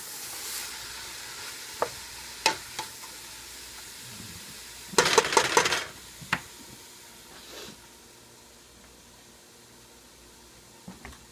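Chimichangas frying in a pan, a soft steady sizzle broken by a few sharp pops and a brief loud burst of crackling spatter midway, then settling back to a quieter hiss with occasional faint ticks.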